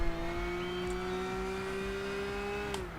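Race car engine in the video game Gran Turismo 6 on PS3, a steady sustained engine drone holding one pitch for a few seconds, then briefly dropping at the end.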